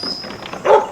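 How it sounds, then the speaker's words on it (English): A single short bark from a sheep-working dog at a yard dog championship in Casterton, Victoria, rings out near the end, brief and fairly close, after a moment of faint background noise. "A little bit of bark just to keep them going."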